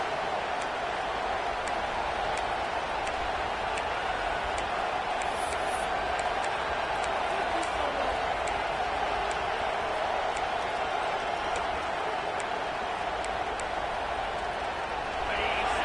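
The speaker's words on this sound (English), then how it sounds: "Decibels rising as the crowd gets behind this defense on third down" A stadium crowd roars for the defense on third down, a steady wall of cheering with faint ticking clicks on top while a commentator talks over it.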